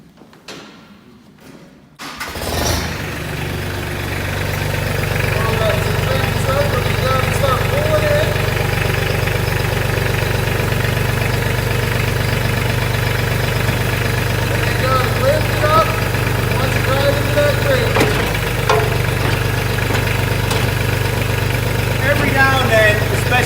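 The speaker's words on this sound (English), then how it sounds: "Let me start up the tractor." A Mahindra Max 24 compact tractor engine cranks briefly after a few quiet clunks, catches, and settles into a steady, close diesel idle that holds for the rest of the span.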